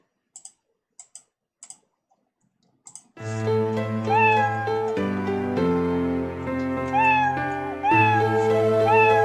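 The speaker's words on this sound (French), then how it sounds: "je vais jouer le son miaou jusqu'au bout." A cartoonish cat meow sound effect played in a computer program, preceded by a few sharp mouse or key clicks, then a loud, sustained, tonal meowing with rising and falling pitch slides that carries on for several seconds.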